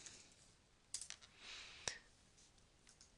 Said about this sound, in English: I'm going to type in how to break